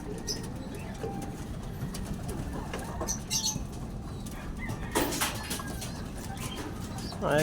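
A pet pigeon or dove coos softly in low, repeated calls while bathing, with splashing and fluttering in a noisy outdoor setting and scattered quiet background sounds.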